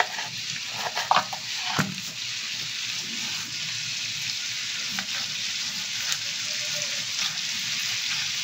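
Prawns fry in a pan with a steady, bright sizzle, and a few spatula clicks and shifts near the start, heard up close with no talking.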